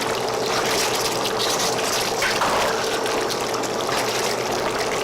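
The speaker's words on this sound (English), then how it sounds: "So now that this is simmering, what I'm going to do is to give it a good mix." Pork binagoongan in shrimp paste sauce being stirred as it simmers, a continuous wet bubbling and sloshing with a few louder liquid swirls, close and steady.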